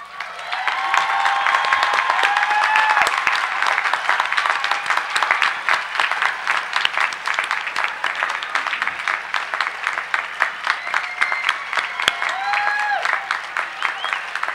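A university commencement audience for the College of Science and Mathematics applauds honors graduates, a long steady wash of many hands clapping with occasional whoops and a few voices.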